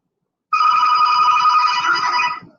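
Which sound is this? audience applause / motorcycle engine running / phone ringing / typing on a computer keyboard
phone ringing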